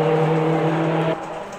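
A Mazda MX-5 race car in the Automobilista 2 racing game holds a steady, buzzing high-revving engine note that suddenly drops lower near the end, as if shifting or lifting off.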